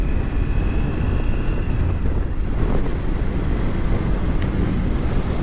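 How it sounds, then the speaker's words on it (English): Strong wind buffets a motorcycle rider on a Triumph Tiger 900 during a March ride in Texas, a loud, steady broadband roar with low rumble running through the whole stretch and no talking. "It's one thing I guess about March in Texas is the damn wind's gonna blow."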